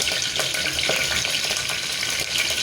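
Curry leaves dropped into hot oil for tempering Kathiyawadi-style Maggi rice, a loud continuous crackling sizzle with small popping bursts, close and steady, no talking.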